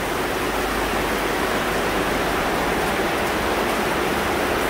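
Rain falls steadily over a garden full of plants, a dense continuous hiss of drops with no breaks and no voices.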